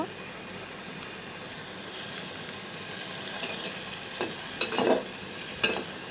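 Small pieces of chicken sautéing with cumin powder, turmeric powder and a green chili for chicken khichuri: a low, continuous frying hiss with occasional scraping stir strokes near the end.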